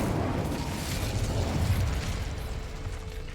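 An Incendio fire spell is cast in Hogwarts Legacy, giving off a loud, roiling burst of flame that rumbles and crackles steadily for a few seconds, with no talk over it.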